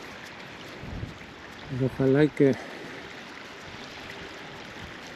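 Water runs steadily downhill at an outdoor metal-detecting dig, a continuous soft rushing stream, while someone speaks briefly over it.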